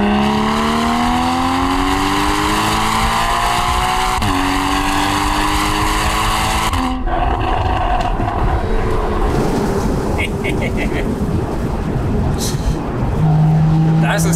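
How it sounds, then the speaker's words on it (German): Porsche 981 Boxster GTS with a 3.4-litre naturally aspirated flat-six and no particulate filter, driven through a forest: loud rising engine revs with climbing harmonics, a sharp shift, then rough throttle burble and tyre noise, continuous and close. "Das ist der Porsche Sound, wie ihr ihn wahrscheinlich alle liebt."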